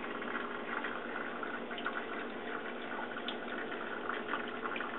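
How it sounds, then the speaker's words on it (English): Water trickles continuously through a Royal Berkey gravity water filter, about two gallons poured in, a soft steady gurgling flow with no voices. "I don't know if you can hear that trickling, but that's actually the water going through"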